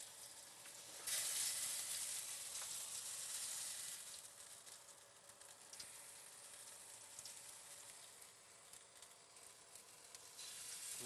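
Herbed chicken frying in butter gives a steady, even sizzle that barely changes over its length. The pan sounds close but fairly quiet, with no voices.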